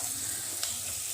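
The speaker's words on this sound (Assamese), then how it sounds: "আলুখিনি এতিয়া অকণমান মই ফ্ৰাই কৰি ল'ম" Potatoes frying with spices in a pan for aloo paratha, giving a steady close sizzle with soft hiss throughout and a faint stir or scrape near the middle.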